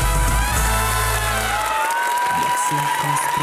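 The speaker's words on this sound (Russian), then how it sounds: "Аплодисменты." Studio audience at a televised dance competition show applauds and cheers loudly, a dense continuous roar of clapping with tonal music and crowd noise blending in over it.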